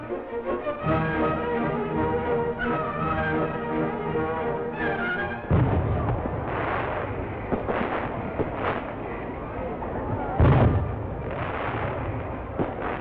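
Aerial fireworks burst over Nagoya Port during its 50th-anniversary harbor festival, a series of booming thuds and crackles over a steady hiss of background noise, some loud, others farther off.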